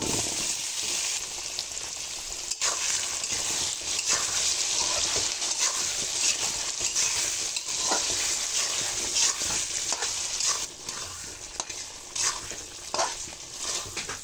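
Chicken with potatoes, salt, turmeric and chilli powder being stirred and fried in a pan, giving a loud, continuous hissing sizzle with irregular scraping strokes of the spoon throughout.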